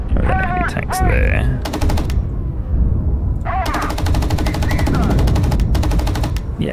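Tank machine gun fire from an M60 in the PC combat game Gunner, Heat, plays in two long rapid bursts, loud and close, with a gap between and some game noise and talk around it.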